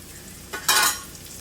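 Mutton mango curry cooks in a pan, a quiet background simmer broken by a short burst of sizzling and stirring near the middle.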